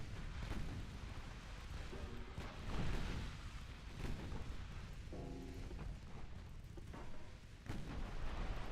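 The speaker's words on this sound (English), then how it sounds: "Took a torpedo hit for like no damage." Torpedo hits a warship during a naval battle in Ultimate Admiral Dreadnoughts, causing flooding. Heavy booming blasts and rumbling detonations follow one another over dense continuous battle noise, loud and close.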